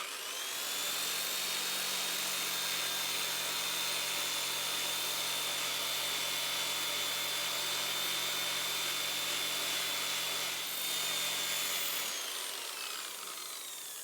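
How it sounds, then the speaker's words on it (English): A sander polisher fitted with a sanding disc smooths casting lumps off a propeller blade, giving a steady, close, high-pitched motor whine over a low hum that holds for about twelve seconds, then cuts off. "I've got a sanding disc here on a sander polisher. So I'll just blend all of these in."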